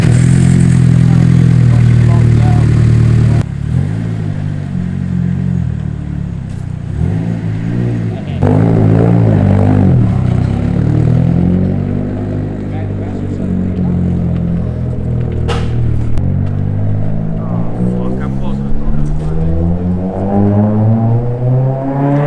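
A Nissan Fairlady Z idles loud and close with a steady, throaty rumble, its pitch rising and falling through several blips of the throttle.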